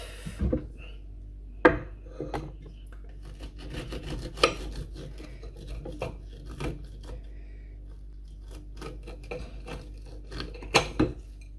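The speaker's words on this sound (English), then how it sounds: "So let's cut it. Sharp knife." A sharp knife cutting through an apple cheesecake, with scattered crisp scrapes and taps against the plate amid soft rustling, close and fairly quiet, no voices.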